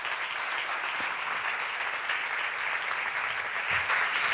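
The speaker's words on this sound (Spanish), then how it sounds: "Un aplauso para ela, por favor." An audience in Lugo claps for a guest from Spain's Women's Institute at the Con Voz de Muller event, a dense, even wash of applause that holds steady and swells slightly near the end.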